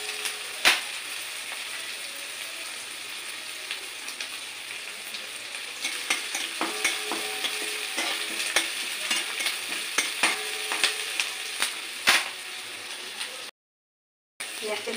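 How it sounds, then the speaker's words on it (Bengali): Sliced onion frying gently in oil tempered with cinnamon, green cardamom and cloves for a Bengali muri ghonto, a steady close sizzle broken by repeated scrapes and clinks of a spatula against the pan, with a short silent gap near the end. "সেজন্য আমি পেঁয়াজটা একটু ভেজে নিচ্ছি"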